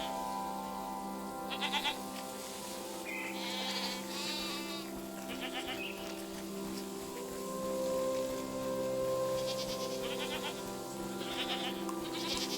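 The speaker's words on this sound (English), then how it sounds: "I'm petting this goat for you." Goats bleat repeatedly in the game SEASON: A letter to the future, several wavering calls scattered over a steady tonal music bed, fairly close and clear with no talk.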